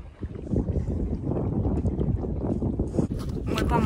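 A tiny boat, smaller than a rubber dinghy, rowed with an oar on a lake, gives off continuous close water churning and sloshing with gusts of wind buffeting the microphone.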